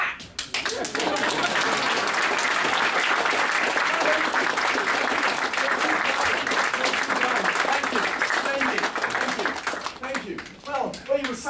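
An audience at a spoken-word show at the 2012 Edmonton Fringe Festival bursts into sustained, steady applause that holds loud for several seconds before tapering into scattered claps.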